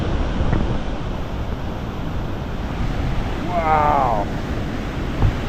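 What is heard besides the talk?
loud rushing river at Sunwapta Falls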